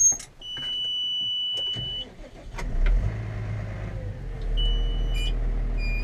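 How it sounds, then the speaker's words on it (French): A tractor engine is restarted after being switched off, with clicks, electronic beeps and a brief starter whir before a low engine rumble settles into a steady idle. "On va redémarrer le tracteur."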